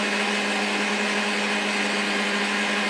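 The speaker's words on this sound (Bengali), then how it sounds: "আর এখন মিক্সি চালিয়ে নেব।" A kitchen mixer grinder pulverizes soaked rice and coconut for appam batter, a loud, continuous whirring motor drone that stays steady from start to finish.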